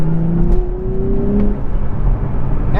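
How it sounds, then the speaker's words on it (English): A Nissan Z's 400-horsepower twin-turbo V6 revs loud and close, a steady engine roar with a rising whine, with no talk over it. "A twin-turbo V6 that is borrowed from Nissan's Infiniti luxury division, and in this instance it puts out 400 horsepower"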